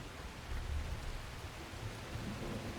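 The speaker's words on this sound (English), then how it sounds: "now we're in the rain" Steady rain falls in the survival video game The Last Caretaker, a dense, even hiss with low rumbling underneath throughout, close and constant with no talk.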